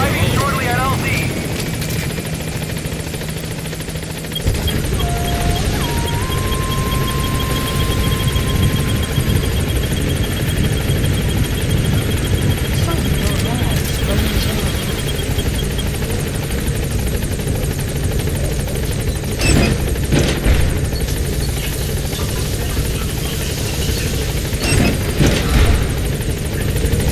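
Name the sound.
helicopter arriving at landing zone, Metal Gear Solid V video game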